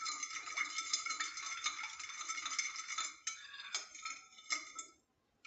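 A spoon stirs a sugary dessert mixture in a bowl, giving a steady metallic clinking and scraping that runs continuously for about three seconds, then breaks into a few separate strokes with short pauses before stopping.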